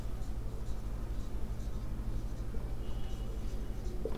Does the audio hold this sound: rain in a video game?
no